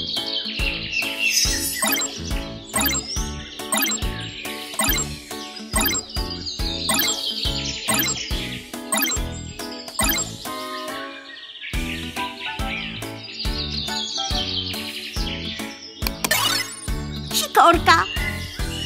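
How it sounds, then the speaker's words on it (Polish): Small tit songbird chirping and tweeting in a children's educational bird cartoon, bright high calls and tinkling notes repeating over steady background music, with a child-like voice speaking briefly. "Sikorka."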